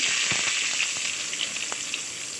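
Onions and curry leaves frying in a pan for carrot chutney, a steady close sizzle and crackle with a few soft stirring scrapes.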